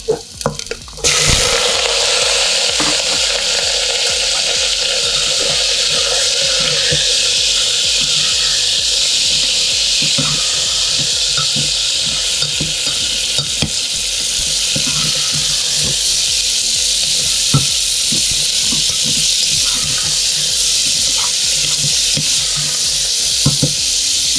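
Garlic dropped into hot oil with fenugreek seeds bursts into a loud hiss, then a strong, steady sizzle runs on with scattered crackles and spatters. No voices.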